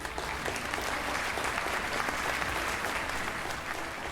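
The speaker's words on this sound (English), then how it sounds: "I think he deserves a louder round of applause." Sustained, dense audience applause fills a school investiture and awards ceremony hall, steady and fairly loud throughout with no break.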